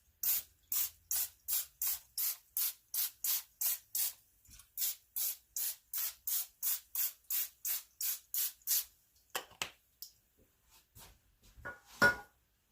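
Rapid rhythmic hissing sprays of cooking spray onto a pan, about twenty short bursts in quick succession, then a few scattered clinks and a louder clatter near the end.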